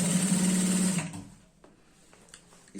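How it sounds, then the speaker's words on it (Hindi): A sewing machine runs in a steady, fast whir for about a second while hemming the edge of a skirt for an 11–12-year-old girl, then stops, leaving quiet fabric handling. "और इसकी किनार में सिलाई लगाएंगे"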